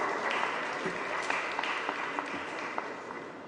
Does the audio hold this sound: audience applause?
yes